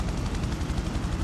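A helicopter in the PROTOTYPE video game drones steadily with a fast rhythmic rotor pulse, loud and close throughout the short moment.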